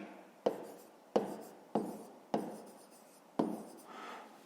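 Pen strokes on paper as a fifth-grade maths answer is written out by hand, five distinct scratchy bursts at a steady, unhurried rhythm, close and fairly quiet with no talking.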